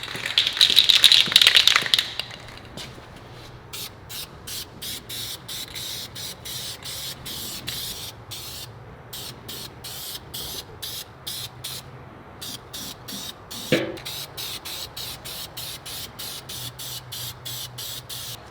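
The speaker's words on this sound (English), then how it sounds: "I am the rattle can god." A spray paint rattle can sprays truck parts on a 1969 Chevy C-20, opening with a loud continuous hiss, then many short, sharp bursts in quick rhythm, close by.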